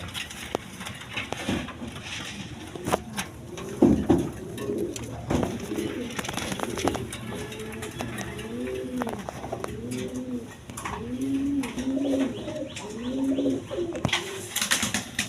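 Large pigeons for sale at a market coo loudly and close in repeated rolling phrases, with clattering knocks and background bustle mixed in, with no talk.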